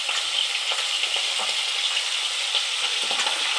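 Duck eggs fry in a pan with a steady, close sizzle and faint crackles throughout, with no voices.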